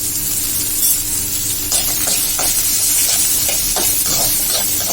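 Green chilli, onion, ginger, garlic and tomato sauté in a pan for a green masala crab rasam, giving a steady loud sizzle broken by repeated scraping stirs close by.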